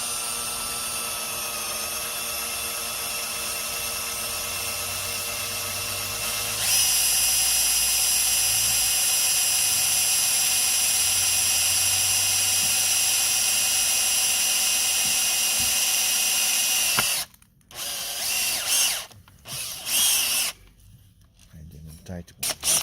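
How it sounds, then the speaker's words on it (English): A power drill runs at high speed boring a 5mm hole, a loud steady whine that jumps in pitch as it speeds up, then cuts out in stuttering bursts near the end. "So this is a 5mm hole. It will drill. So now I'll put it on high speed here."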